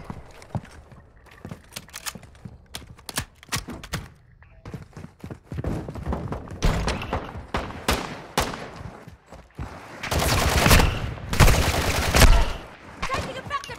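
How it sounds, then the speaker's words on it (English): Gunfire rings out in the video game DMZ: sharp single shots and short bursts at first, then denser, louder automatic fire with heavy thuds, close and rapid. "I'm trying to hear the gunshots to locate his location."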